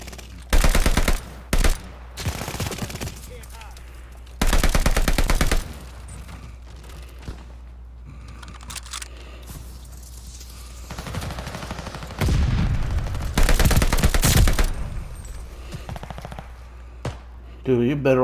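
Gunfire from a weapon in Call of Duty Vanguard, heard as several loud bursts of rapid automatic shots separated by pauses, with a voice talking over parts of the clip.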